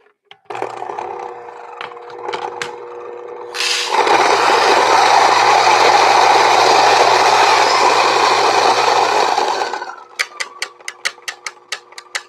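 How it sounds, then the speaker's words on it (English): A coffee grinder set to its coarsest setting grinds beans in one loud, steady whirring run of several seconds, with clicks and handling noises before it and a series of sharp taps after it stops. "now we're going to go all the way coarse on the grinder"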